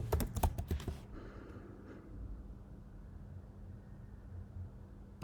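Quick bursts of clicky keystrokes on a computer keyboard during the first second, close and crisp, then quiet room hiss with a faint later tap.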